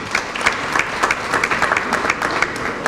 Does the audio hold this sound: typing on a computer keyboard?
no